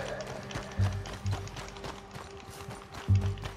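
Horse hooves gallop in Red Dead Redemption 2, a quiet, steady clip-clop of repeated hoofbeats with a few heavier thuds over a soft background.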